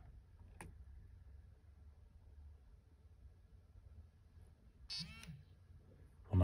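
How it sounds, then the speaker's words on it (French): A BrailleSense 6 mini braille notetaker gives a short, faint electronic startup beep at power-on. It stands alone over a low background hum, with a brief click nearby. "On a un petit bip et une vibration"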